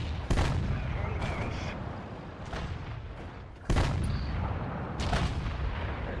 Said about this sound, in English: it eats a shot from the 90mm gun on the 25-2